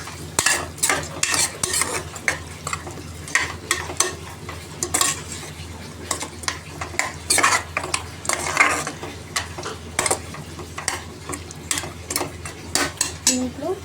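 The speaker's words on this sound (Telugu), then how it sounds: "ఇప్పుడు బాగా కలుపుకుందాం।" Mutton curry with chili powder gets stirred in a pan, a busy run of repeated sharp spoon scrapes and clanks against metal over a soft sizzle, close and fairly loud throughout.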